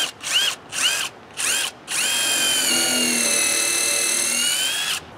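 Power drill countersinking a pilot hole in wood while building a pergola on a deck, heard as three short whining revs followed by a long sustained high-pitched spin, close and loud, ending abruptly.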